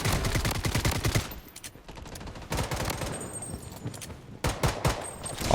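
Rapid full-auto SKS rifle bursts fire in the Blood Strike video game, loud and close, with repeated rattling volleys separated by brief pauses.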